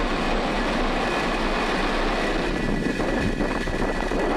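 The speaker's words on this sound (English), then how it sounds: "Ignition and liftoff of SDA." A SpaceX Falcon rocket roars continuously at liftoff, a broad, steady, rumbling thunder heard from a distance without pause.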